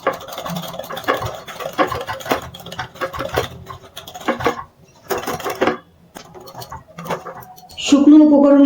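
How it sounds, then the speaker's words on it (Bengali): Dry ingredients for a Christmas fruit plum cake stirred together in a bowl, giving irregular soft scraping and tapping of utensil against the bowl, with a voice joining briefly near the end. "শুকনো উপকরণগুলো ভালো করে মিশিয়ে নিয়েছি"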